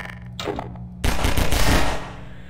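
A robot weapon fires in Half-Life 2. A short opening burst is followed by a sustained, dense stream of rapid automatic fire, loud and close, trailing off near the end.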